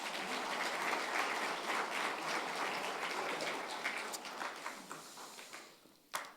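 A church congregation claps at a pastor's installation service, sustained applause that thins and fades toward the end, closing with a single sharp knock.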